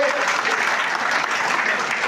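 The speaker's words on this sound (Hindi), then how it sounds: "डबल तालियां इनके बजाइए।" A short burst of loud, dense clapping from a big political rally audience, continuous from start to finish.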